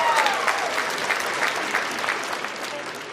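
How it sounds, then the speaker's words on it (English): Sustained audience applause at a celebrity boxing event, dense clapping from a large crowd filling the whole stretch at steady loudness, with scattered voices mixed in. "You need to give him a round of applause."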